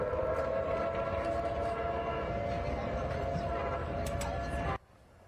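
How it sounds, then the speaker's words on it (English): Tsunami warning sirens wail across Berkeley, a sustained steady tone that holds loud and unbroken for several seconds with distant outdoor rumble beneath, then cuts off abruptly near the end. "These are the sirens that went off earlier."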